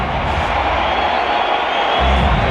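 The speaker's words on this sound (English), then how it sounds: "Huge roar." A packed stadium crowd at a cricket match between South Africa and another side roars loudly and without a break, a dense wash of cheering that swells further near the end.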